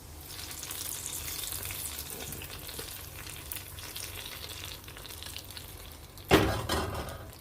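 Fried garlic in hot oil poured into a green peas curry made with fresh coconut milk gives a steady crackling sizzle throughout, then a sudden loud hissing burst near the end, with no talk.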